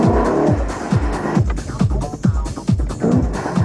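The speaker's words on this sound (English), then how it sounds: "The sheer engine power of the 5-liter V8 makes it tricky to control." BMW M3 with a 5-liter V8 driven at its limit through a pylon course with stability control off: a loud, close engine revving hard in quick rising and falling surges, with repeated sharp shifts and some tire noise.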